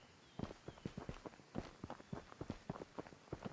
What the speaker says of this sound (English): suddenly I heard footsteps from outside